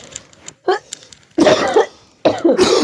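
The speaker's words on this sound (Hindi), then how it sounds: "हमको भी खांसी जैसा लग रहा है।" A person coughs several times in short, harsh bursts close to the microphone, the coughs clustered in quick groups with brief pauses between them.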